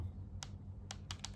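Four crisp little clicks from the analog sticks of a Gamesir X5 Lite game controller at uneven intervals, close and fairly quiet, over a low steady hum.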